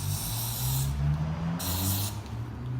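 A spray paint can hisses in two long bursts while coating a clamp for hydro-dipping, loud and close, over a low background rumble with no speech.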